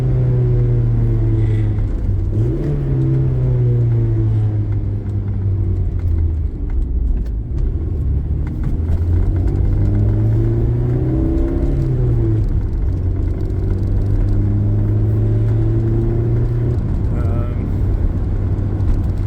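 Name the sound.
Porsche 924 car driving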